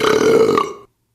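A huge, loud belch, throaty and resonant, lasting under a second and trailing off abruptly, heard alone in a restaurant.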